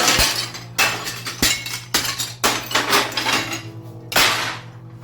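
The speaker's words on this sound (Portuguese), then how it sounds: "um som estridente, como se milhares de cerâmicas estivessem sendo quebradas, arrebentadas, todas de uma vez no chão" Many ceramic pieces shatter on the ground in a cemetery, a string of loud, sharp crashing and clinking bursts that come in uneven waves, each trailing off into scattered tinkling fragments.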